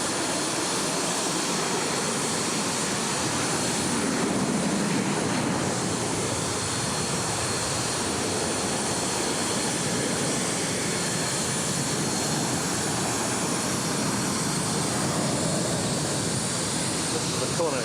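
Airplane engines roar on the apron at Kona Airport as passengers are bused out to the plane, a loud, steady, continuous drone with a broad rushing hum that holds level throughout.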